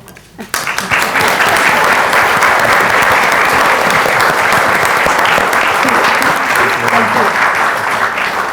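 A large audience bursts into loud, sustained applause after a mindfulness talk and Q&A, starting abruptly and holding a dense, even roar of clapping throughout.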